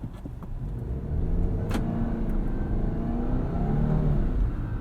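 2022 Subaru Outback Wilderness pulling away from a stop on snow in normal mode with wheel spin, a muffled engine rising steadily in revs heard from inside the cabin, moderate and continuous with faint road rumble.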